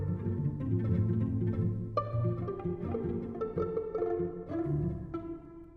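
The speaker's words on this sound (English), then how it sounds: "The main sound is an east-west strings pluck sound." Plucked string synth from an East West strings patch, arpeggiated at a randomly shifting rate, runs as a steady stream of short bright notes over a fuller low bed, sounding close and continuous with no voices.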